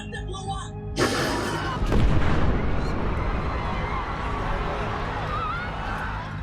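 A sudden massive bomb explosion booms among a crowd at the Boston Marathon, followed by a roaring, rumbling wash of noise that lingers for several seconds.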